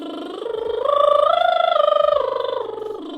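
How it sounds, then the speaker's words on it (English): A voice buzzing through loosely fluttering lips, sliding up a scale and back down in one continuous breath, close and fairly loud. "The lip trill also protects your vocal muscles as they're looking for that balance"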